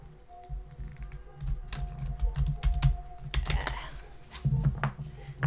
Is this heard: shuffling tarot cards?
yes